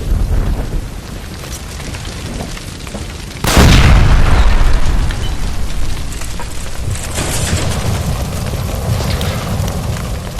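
A gas line blows up in an arson case at Nicholson Electroplating in the video game L.A. Noire, a sudden loud boom roughly a third of the way in, after low rumbling, then a long roaring, crackling fire that does not let up.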